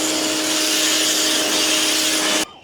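Cheap pressure washer spraying along the roof line of a house, a loud steady hissing rush with a constant motor whine that stops abruptly at the end.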